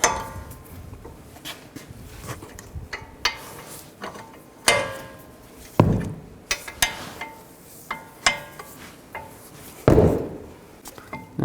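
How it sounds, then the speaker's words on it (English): Socket ratchet loosening the front brake caliper bracket bolts on a 2009-2017 Chevy Traverse with a 21mm socket, heard as repeated clicks and metallic clanks in irregular bursts at close range, with no talk. "Now take the brake caliper bracket off, take these two bolts out, use a 21mm socket."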